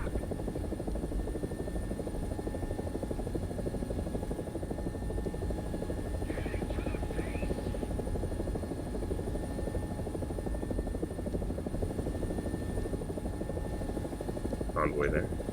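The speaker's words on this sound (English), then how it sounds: "We are the fastest helicopter here." Steady, loud rotor and turbine drone of an AB 205, an Italian UH-1H helicopter, flying in a video game, continuous throughout with faint brief voices over it.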